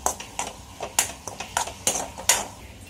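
Garam masala being stirred in a cooking pot for a black pea usal, with a spoon repeatedly clinking and scraping against the metal in a steady rhythm of about eight close, sharp strokes.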